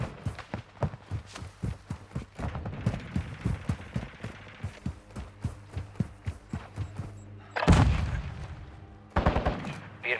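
Video game combat with rapid gunfire crackling in uneven bursts, then a loud grenade explosion booming close by, followed by more shots.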